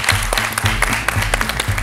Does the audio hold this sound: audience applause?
yes